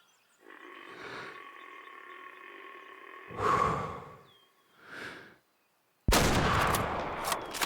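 A single loud gunshot in a hunting video game, a sharp broadband blast near the end that rings out after quieter animal calls and ambient game sounds.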